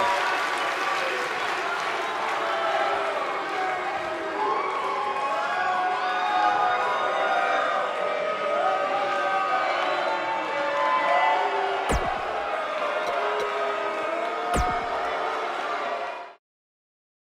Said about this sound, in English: We've got an animated crowd here tonight